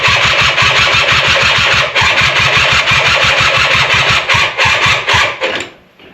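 ATV quad engine cranking repeatedly in a steady rhythmic churn, trying to start but not catching, loud and close, then the starter cuts off and it falls quiet.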